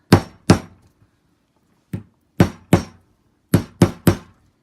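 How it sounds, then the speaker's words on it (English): Eight sharp hammer blows ring out in uneven bursts, loud and close, with short pauses between groups and no talking. "if I were to hit it with a hammer, I'm pretty sure I could get it out"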